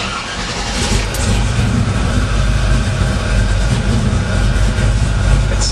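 A 1968 truck engine cranking over and settling into a steady, loud low rumble close by, running continuously with a broad roar throughout.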